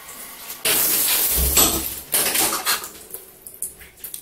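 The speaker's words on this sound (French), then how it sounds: "Et je mélange pour faire une petite pâte bien fluide." A hair-care paste being mixed with warm water in a bowl, close clinking and scraping of a utensil against the bowl in irregular bursts, no talking.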